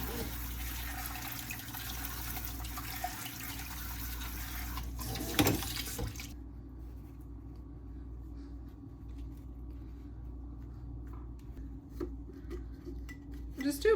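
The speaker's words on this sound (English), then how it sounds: "We're also gonna do a quick rinse of them." Strawberries are rinsed under a running kitchen tap into a sink, a soft steady trickle with faint clinks and a brief louder splash partway through.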